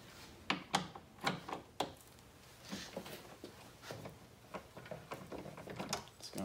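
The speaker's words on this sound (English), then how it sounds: "what I've got here is a T40 Torx driver on the end of my ratchet" A ratchet fitted with a T40 Torx driver loosens bolts on a 2020 Jeep Wrangler Rubicon, giving quiet, close clicking bursts in irregular runs with soft handling noise between them.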